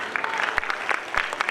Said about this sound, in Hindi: बार बार उनके प्रोग्राम के लिए तालियां बजाते रहिए